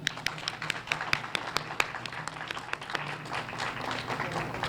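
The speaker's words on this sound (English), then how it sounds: "Can we please have a round of applause for them?" An audience applauds at an anniversary event in Phoenix, giving a short burst of scattered hand claps that thickens into steady clapping from a modest crowd.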